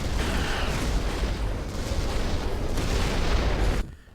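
A sustained, roaring low rumble of black shark explosions in the video game Descent 3 fills the space loudly for nearly four seconds before cutting off abruptly.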